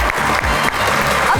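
Studio audience applause greeting two poets, Zain Baloch and Komal Joya, as they walk onto the stage of a talk show; dense, steady clapping fills the short moment without a break.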